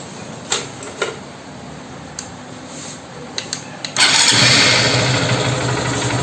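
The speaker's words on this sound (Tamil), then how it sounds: "இப்போ இதை ஸ்டார்ட் பண்ணி வண்டி இன்ஜின் நாய்ஸ் எப்படி இருக்குது அப்படின்னு அப்படி சொல்லி செக் பண்ணலாம்." A Honda Shine motorcycle after an engine service: a few faint clicks and cranking taps, then the engine catches and settles into a steady, close idle.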